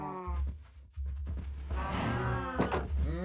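Cattle in a Minecraft game moo repeatedly, several drawn-out lowing calls one after another, loud and close with no talking over them.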